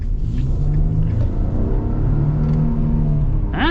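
A 2025 Nissan Frontier King Cab's 3.8 liter V6 accelerating, a steady loud engine drone that rises in pitch as the revs climb, heard from inside the cab, with a short squeaky sound at the end.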